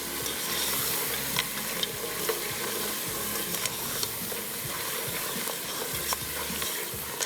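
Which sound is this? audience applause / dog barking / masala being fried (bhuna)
masala being fried (bhuna)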